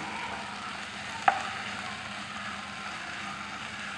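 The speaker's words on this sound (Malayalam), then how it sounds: "മസാലപ്പൊടികളുടെ ഇല പച്ച മണം മാറുന്നത് വരെ നല്ലതുപോലെ നമ്മൾ വഴറ്റിയെടുക്കണം." Spice powders sauté in hot oil in a pan with a steady, even sizzling hiss throughout, broken once by a single sharp scrape or clink of the spoon; no one speaks.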